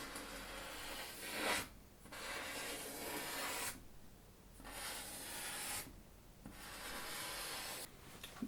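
Pencil strokes on paper while sketching a face, repeated light passes heard as soft rubbing scratches in long sweeps with short pauses between, close and quiet.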